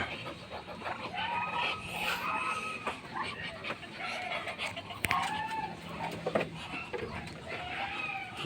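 Chickens cluck and roosters call close by in a farmyard, with overlapping clucks and squawks throughout and a person talking now and then.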